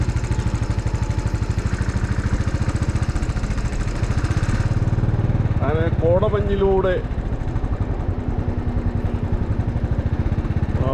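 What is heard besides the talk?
motorcycle riding through mist near Kodaikanal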